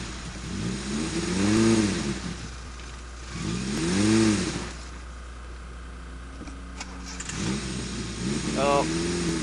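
A 1993 pickup truck, running poorly and low on gas, revs its engine in repeated rising surges, each swelling and then falling back toward an idle, with people talking nearby between the revs.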